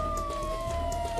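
Police siren wailing steadily in the distance, a continuous tone slowly falling in pitch and running alone for the whole moment.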